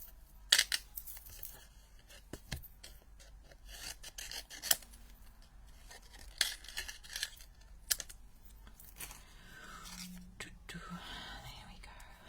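Scissors snip and rasp through paper beside rustling and handling noises during a live craft sale session, with a few sharp cuts standing out close by and a quiet voice in the background.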